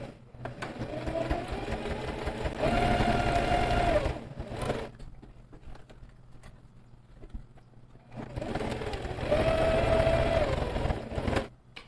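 A sewing machine stitches a seam in two sustained, fast-whirring runs of several seconds each, with a faint hum and small clicks in the pause between them.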